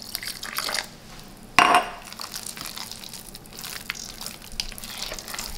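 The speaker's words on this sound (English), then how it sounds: "I'm gonna add just a little bit more broth in here" Broth poured into a cauliflower mashed potato mixture, a short splashing pour burst near the middle amid faint kitchen clatter and liquid sounds.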